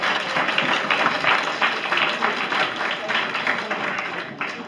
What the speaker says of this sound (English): Maybe a little applause.